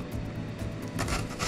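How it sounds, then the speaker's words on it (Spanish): A knife slices an onion into very thin rings on a cutting board for a Spanish tortilla, making quick, repeated soft cuts and rubbing sounds close up, with no talking. "vamos a rebanar nuestra cebolla de igual manera"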